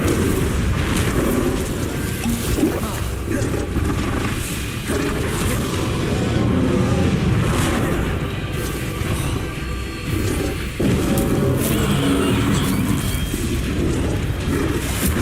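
Hogwarts Legacy combat with an Incendio fire spell blast, heard as a continuous roar of booming, crackling bursts. The spell effects overlap without letup, and the sustained fiery rumble stays loud throughout.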